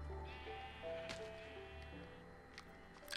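Sheep in the Minecraft video game bleat repeatedly over a steady droning background, the calls clear and fairly close, with no talk over them.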